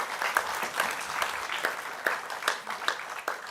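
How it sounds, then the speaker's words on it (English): An audience at a mayoral election debate night in Calgary applauds with brisk, crackling claps that continue at moderate loudness throughout. "Round of applause for Eda Treffy Deerfoot for that long repeat"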